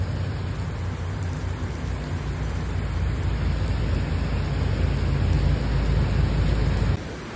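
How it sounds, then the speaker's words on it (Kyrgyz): Heavy rain pouring down in Moscow, a steady broadband wash of drops that holds loud and even for about seven seconds before easing slightly at the end, with no voices. "бүгүн Москвада өтө катуу жаан жаап атат"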